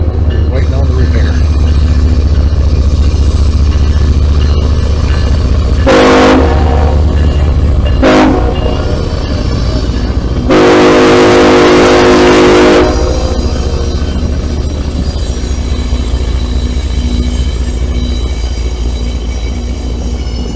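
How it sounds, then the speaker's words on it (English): A long CSX freight train led by four locomotives rumbles loudly and steadily through a street crossing at night, with sharp horn blasts sounding twice briefly and then once in a longer sustained blow over the continuous rolling roar. "this must be one long train with 4 engines in the lead."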